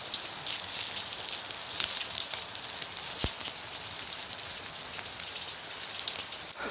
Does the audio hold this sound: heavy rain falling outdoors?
yes